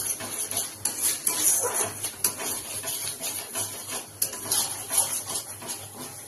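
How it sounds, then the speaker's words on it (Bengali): Ground spices are stirred in a cooking pan with a utensil, giving repeated close scrapes and metallic clinks in an uneven rhythm, with no talking. "একটা নাড়িয়ে দিয়ে।"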